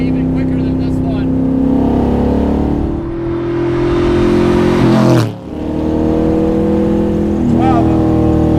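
A 600 HP 1972 Corvette autocross car's engine holds a loud, steady drone near 4,000 RPM, with a brief dip and surge midway, while people talk over it from inside the car.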